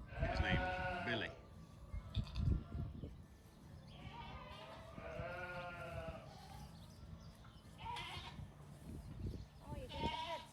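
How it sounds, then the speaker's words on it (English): A billy goat bleats several times at a small roadside store, wavering cries close by that alternate with a person talking. "Hello, goat."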